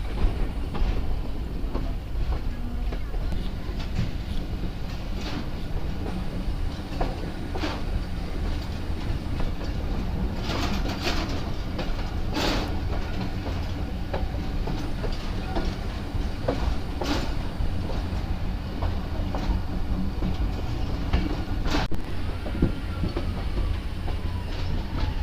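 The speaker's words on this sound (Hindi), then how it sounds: "काफ़ी लंबा रेक हो चुका है ट्रेन का" A long-rake passenger express rolls along rails through the Sindh countryside, a steady close rumble with continuous clickety-clack from the wheels and occasional sharper clanks, no voices.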